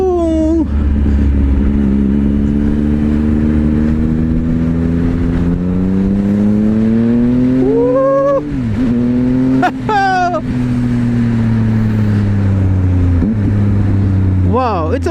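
A Triumph Speed Triple RS motorcycle with owner modifications, including a quick shifter, revs its engine up and down repeatedly, loud and close, the rising and falling engine note filling the whole stretch.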